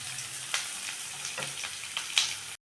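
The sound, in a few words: ingredients frying in oil for palak dal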